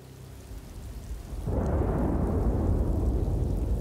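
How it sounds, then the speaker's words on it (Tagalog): A low rumble of thunder builds, then heavy rain suddenly bursts into a loud, steady downpour that continues to the end. "biglang bumuhos ang malakas na ulan"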